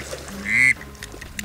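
A single short, bright whistle note blown on a duck whistle imitates a drake's call, rising in loudness and cutting off sharply against a faint background.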